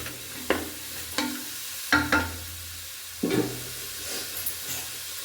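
Ground masala paste tipped into a hot pan and stirred, giving a few distinct scraping stirs and soft sizzles with quiet gaps between them, close and fairly faint, no voices.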